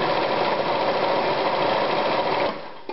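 An Anker 220 Super Stretch sewing machine runs a seam at steady speed with a dense, rapid mechanical whirr, close and loud, then stops abruptly near the end, followed by a small click.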